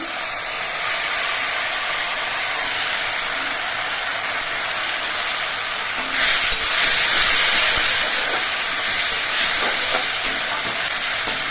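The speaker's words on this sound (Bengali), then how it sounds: "এবার কিছুক্ষণ কষিয়ে নিতে হবে মশলাটা দিয়ে" A ginger, garlic, tomato and chili paste sautéing with browned fried onions: a loud, steady hissing sizzle throughout, swelling a little halfway as the pan is stirred, with no talking.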